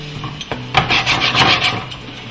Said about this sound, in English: you just want to get your spatula and kind of run it around the edges